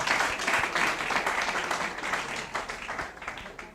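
Audience at a school exposé competition applauds loudly and steadily, dense clapping filling the whole stretch before tapering slightly at the end.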